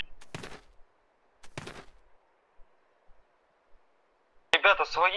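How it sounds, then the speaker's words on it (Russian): Heavy machine gun fire in a video game comes as two short, loud rattling bursts separated by near silence, with a few faint distant pops, before a voice speaks at the end. "Пулемет крупняк по нам работает"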